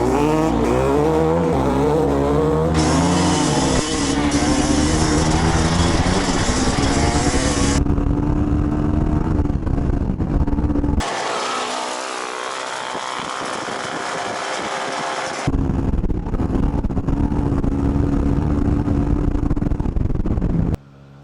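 Two 250cc dirt bikes, a Yamaha YZ250X and a WR250R, roar loud and close in a drag race on loose sandy ground. Engines rev and shift through gears, fading briefly before blasting back at full throttle.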